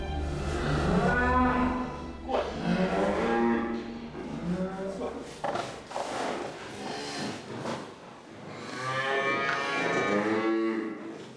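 Beef cow on a farm mooing after calving, several long, loud, drawn-out lowing calls near the listener, separated by short pauses, with no voices.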